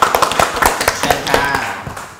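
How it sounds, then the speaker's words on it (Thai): Brief applause from a group for a child named Bonus in a Thai classroom, quick scattered claps lasting about two seconds with a voice heard under them. "ขอเสียงปรบมือให้น้องโบนัสหน่อยครับ"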